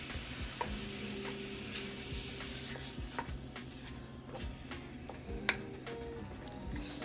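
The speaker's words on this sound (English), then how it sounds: "So now we're just gonna add our beef. And stir it up." Beef for a Jamaican chop suey hits a hot pan and sizzles steadily, with a spoon scraping and clinking against the pan as it is stirred, close and alone without talk.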